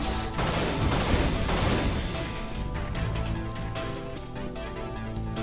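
Brutes firing rockets in the game Unreal: a dense, loud clatter of explosive bursts and crashes at first, easing into rough, echoing blasts and rumble.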